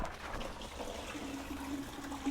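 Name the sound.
coolant draining from Jeep engine hose into bucket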